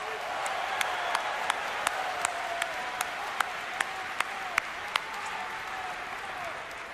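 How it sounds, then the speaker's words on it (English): Audience applause at an opening ceremony, a steady crowd-wide clapping wash with scattered sharper individual claps, sustained and fairly close for the whole stretch. "Please give yourselves a round of applause."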